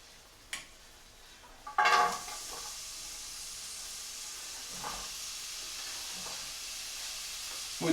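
Onions hitting a hot pan with a sudden loud hiss of steam and sizzle that settles into a steady crackle, with a few utensil knocks, no talking.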